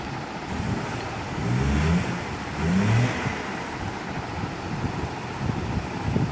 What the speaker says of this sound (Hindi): एक गाड़ी को हम स्टार्ट करते हैं